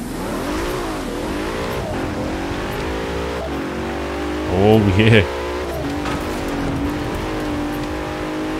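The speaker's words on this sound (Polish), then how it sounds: "To jest taka już hardkorowa wersja Bentleya Continentala. Z tego Bentleya to już chyba niewiele co zostało, ale posłuchajcie go." Heavily modified Bentley Continental GT engine revving in Forza Horizon 4, a steady engine drone under continuous talk with a brief louder rev burst near the middle and exclamations.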